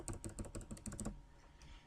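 Rapid keystrokes on a computer keyboard while entering text into a table, a quick burst of close, crisp clicks that stops after about a second, leaving a quiet room.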